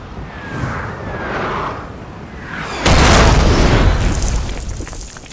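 Cannons fire in a Napoleon: Total War battle: faint whistling shots give way to a sudden loud boom with a rumbling, lingering blast.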